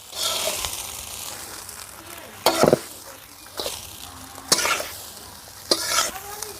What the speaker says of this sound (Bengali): রাইসটাকে নাড়াচাড়া দিয়ে নেব।